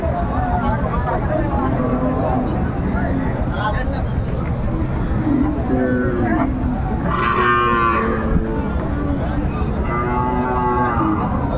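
Cattle, including Friesian bulls at a farm, moo several times, drawn-out lowing calls rising above a steady background of people talking nearby.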